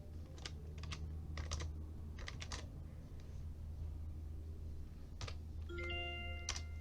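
Clicks on a computer keyboard come in a few quick clusters of keystrokes, spaced out over a steady low hum, then a short run of chiming tones near the end.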